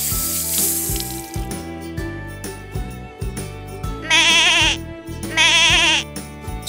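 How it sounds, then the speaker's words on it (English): Sheep bleating twice in long wavering cries within a farm-animal storybook read-aloud, the bleats standing out loud over a busy backing of music-like tones and a washing, water-like hiss. ""Baa! Baa!" bleated the sheep."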